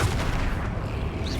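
A Confringo spell blast from the video game Hogwarts Legacy bursts with a loud, sustained rumbling roar that fills the whole moment with no voices over it.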